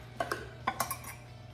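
Utensils clink against a baking dish and plate while a crab and shrimp enchilada is lifted out and plated, with four or five sharp, close metallic taps in quick succession and no talking.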